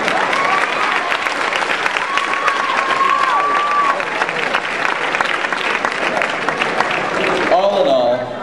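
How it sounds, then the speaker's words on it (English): An audience at a 2011 high school commencement claps and cheers in a steady, loud roar that holds for about eight seconds with voices and whistles mixed in, easing slightly at the end. "okay, we can clap for that"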